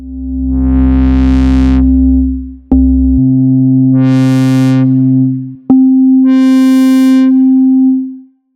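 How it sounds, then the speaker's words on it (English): A synthesizer drones a steady pure sine-wave tone while layered wavetable notes swell and fade over it in three repeating waves, loud and electronic. "I'll do it with a sine wave to make it a bit more obvious."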